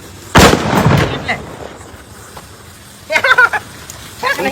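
Firecracker bombs go off outdoors: one loud, close blast is followed by a quieter stretch, then two bursts of rapid crackling pops, with a brief spoken word between them.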